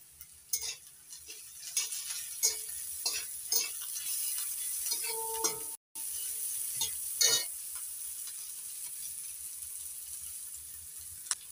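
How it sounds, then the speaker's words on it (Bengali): Slit green chillies drop into a pan of frying egg for an egg mustard poppy-seed dish, giving soft sizzling and several clinking stirs against the pan, fairly quiet and without speech. "এবার দিয়ে দিচ্ছি কয়েকটা চেরা কাঁচা লঙ্কা।"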